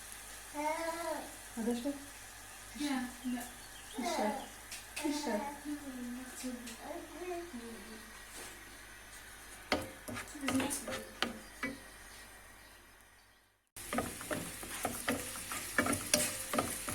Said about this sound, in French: Laisser notre oignon revenir un petit peu, suer un peu.